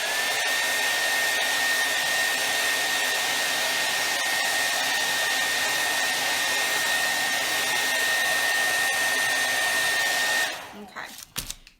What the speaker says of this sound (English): I am just going to run the hairdryer right in the middle.